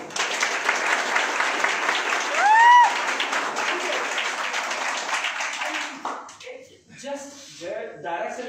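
A room of attendees at a company event in Gujarat claps together in a loud, continuous round of applause that fades out after about six seconds, followed by a voice speaking and brief tonal sounds.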